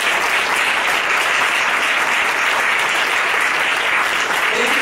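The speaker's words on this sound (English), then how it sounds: "give all the people behind us a big round of applause" Steady, dense applause from a large audience, continuous and loud throughout with no voices standing out.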